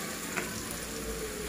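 Butternut squash hits a pan of onions, garlic and ginger, giving a soft, steady sizzle with a faint scrape of stirring, quiet and close.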